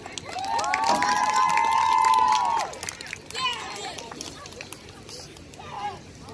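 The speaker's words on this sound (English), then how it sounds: "Round of applause, please." Audience at a high school band senior recognition cheers and applauds a graduating senior, a long bright whoop ringing out over crowd noise before settling into scattered clapping and murmur.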